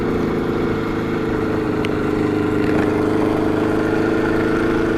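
A Honda Nighthawk motorcycle engine runs steadily, loud and close, with a constant throbbing rumble that holds level throughout and no talking.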